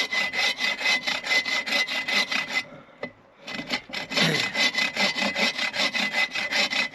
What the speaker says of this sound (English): so I'm going to whittle down like a 1 inch